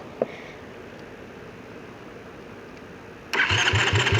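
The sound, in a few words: quad ATV engine starting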